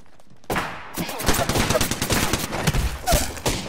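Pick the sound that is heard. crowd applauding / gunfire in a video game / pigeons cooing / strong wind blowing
gunfire in a video game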